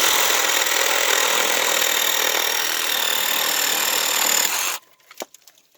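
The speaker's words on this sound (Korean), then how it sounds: "너무 안으로 들어가가지고 아깝지만 잘라낼 수밖에 없습니다" Cutting persimmon tree branches during pruning: a steady, buzzing cutting drone holds for about five seconds, then stops abruptly, followed by a few faint clicks and knocks.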